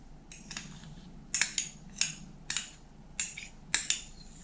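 A spoon mixes sugar in a small bowl, making bright clinks and scrapes in uneven bursts, about a dozen strokes against a quiet background.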